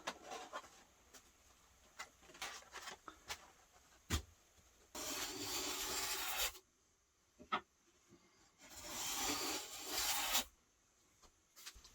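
Two sustained, loud scraping passes as a tool trims the edges of wood veneer, with scattered small taps and handling noises in between and no talking.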